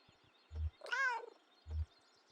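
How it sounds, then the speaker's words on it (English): A cat meows alertly in the video game Kentucky Route Zero, a single clear, rising and falling meow set between two low thuds. "Alert meow."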